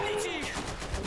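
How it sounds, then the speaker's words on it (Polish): Machine gun fire in the video game Iron Harvest crackles in a brief rapid burst amid the game's sound mix, with a voice speaking over it. "That's a machine gun"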